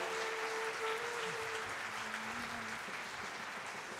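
Warm audience applause at a hospital staff talent show, steady and full for the whole stretch with a faint tonal hum beneath, no speech on top.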